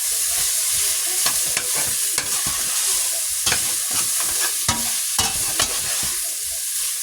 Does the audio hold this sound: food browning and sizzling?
yes